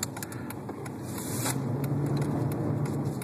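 A 2011 Dodge Challenger V6 rental car being driven fast, its engine a steady low drone with road and tire noise that grows slightly louder and continues without a break.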